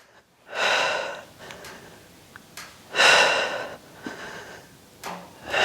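Deep, audible breaths during a Pilates reformer exercise, long whooshing inhales and exhales alternating in a slow, steady rhythm, close to the microphone with no talk.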